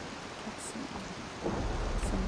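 Rain pours steadily in Disney Dreamlight Valley, with a low thunder rumble swelling louder toward the end over the constant patter.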